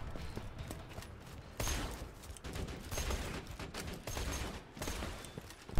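Automated turret fire in Borderlands 2, rapid bursts of gunshots rattling in quick succession amid other battle noise, moderately loud and fairly close, with several distinct volleys.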